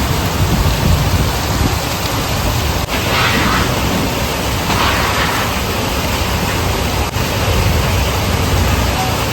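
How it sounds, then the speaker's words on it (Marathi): Heavy rain pours in a dense, constant roar, with a few sharp thunder cracks breaking through the downpour; no voices. "अजून पण विजा कडकडत आहे"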